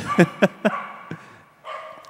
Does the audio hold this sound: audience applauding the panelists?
no